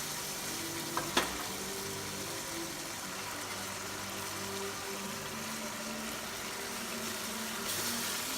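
Carrots stir-frying in a pan of hot oil give a steady, close sizzle that holds evenly throughout, with a couple of brief clatters near the start and no talking.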